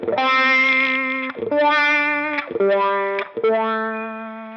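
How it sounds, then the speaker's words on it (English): Electric guitar through a Line 6 Helix phaser model plays four sustained chords, each with a swirling, sweeping tone and short gaps between them. "Here's the phasal."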